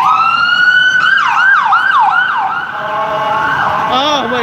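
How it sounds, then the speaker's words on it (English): An ambulance siren wails loudly and up close on a downtown street in Calgary, sweeping through rising and falling yelps before switching to a steady tone, with traffic beneath. "This ambulance is just too loud."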